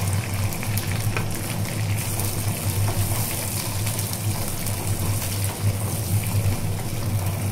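Onion and cumin seeds frying in hot oil, a loud continuous sizzle with crackling spatter that holds steady throughout, close up, with no talking.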